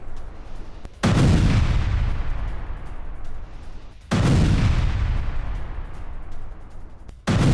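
Heavy missile strikes by the IDF in Lebanon boom one after another, three loud, deep blasts each trailing off into a long rumbling roar.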